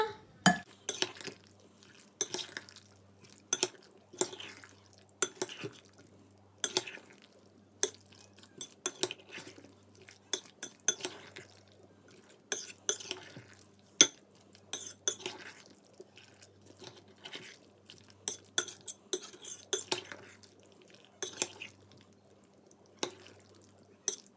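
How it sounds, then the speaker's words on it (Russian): Herring salad with beetroot mixed in a bowl, a quiet close series of irregular clinks and soft wet scrapes of utensil against dish, repeating throughout with no talk. "Это все хорошенько перемешиваем."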